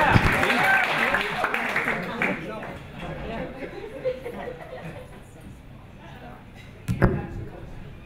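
Comedy club audience at Helium Comedy Club in Philadelphia applauds a comedian, a dense wash of clapping and cheering that fades over a few seconds, followed by quieter crowd murmur and a short burst of noise near the end.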